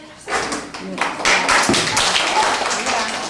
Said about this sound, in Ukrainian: Тож уважно слухайте і гучніше плескайте.